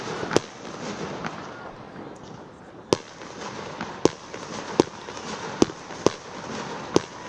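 Fireworks bang repeatedly at a university football match between Salford and Liverpool Hope, sharp cracks at irregular intervals over a steady crowd rumble, some close and loud, others more distant.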